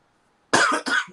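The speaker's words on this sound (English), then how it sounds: "I keep coughing, guys." A single sharp, close cough in two quick bursts breaks the silence, loud and raspy.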